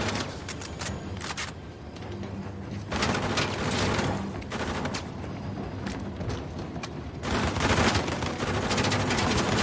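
Gunfire and grenade blasts aboard a moving train in Uncharted: The Lost Legacy, a steady barrage of sharp shots and heavy bursts over a rumbling background, loudest near the end.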